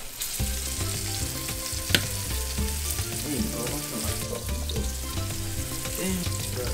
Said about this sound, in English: I fry butter in the pot.